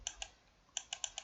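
Quick bursts of keystrokes on a computer keyboard, two taps then a cluster of four, crisp and close in a quiet room while a number is entered at a prompt.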